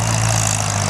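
A Farmall C tractor engine runs steadily nearby in a slick yard, a continuous low rumbling drone with no breaks and no voices.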